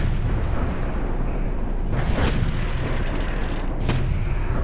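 A self-propelled gun in a video game fires shells, heavy booms rising over a constant loud rumbling engine and battlefield bed, with two sharp cracks a couple of seconds apart.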